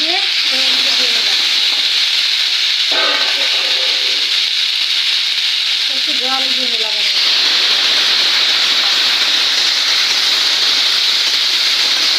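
Okra fries in a pan with a steady loud sizzle throughout, while a few brief scrapes of stirring come through the hiss.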